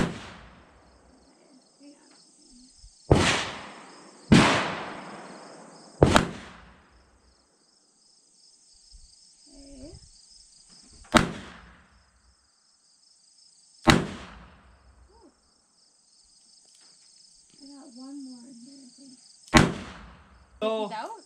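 A Chiappa Rhino .357 revolver fires about eight single sharp shots at irregular intervals, each a loud crack with a quick decaying tail, outdoors with insects chirping and brief quiet voices between shots.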